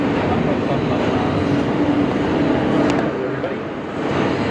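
Steady loud rumble and rattle of a New York subway train, heard from aboard an Alstom R160A E train, continuous and close with no clear pauses.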